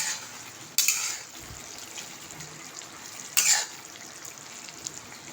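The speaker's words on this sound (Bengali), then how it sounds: "ওখানে ফুটছে, একটু নাড়িয়ে দিই।" Pointed gourd curry in mustard sauce simmers in a pan and is stirred, giving two short scraping bursts of the spoon against the pot over a quiet bubbling background, with no speech.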